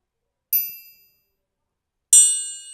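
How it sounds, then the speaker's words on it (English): Two bright triangle bell strikes in a beat, spaced about a second and a half apart, each ringing out and fading over silence. "Next, I added a triangle bell."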